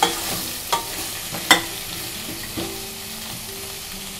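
A spoon stirs a simmering tamarind dappalam stew with green chilies and turmeric in a pot on the stove, with soft sizzling under a few sharp scrapes and clinks at irregular intervals.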